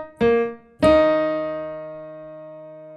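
Two piano notes or chords from a song's chorus, struck one after another and left ringing, the second sustaining and slowly decaying, played alone with no talking.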